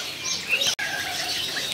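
Caged birds at a bird market kiosk give thin, high chirps and light fluttering over a steady background hiss, with one abrupt brief dropout midway.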